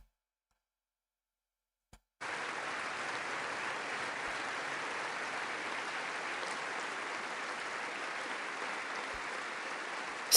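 Congressional audience bursts into applause after a brief silence, a steady, uniform roar of many hands clapping that continues to the end.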